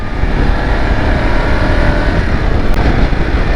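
Strong wind buffets a microphone outdoors on a Scottish winter road, making a loud, continuous low rumble with irregular gusting thumps and no voices.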